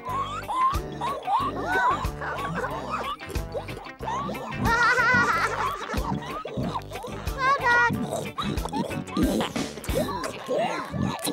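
Cartoon pigs grunt and oink at breakfast time in an animated children's farm episode, with a child-like narrator voice talking among the snorts and splashy feeding noises.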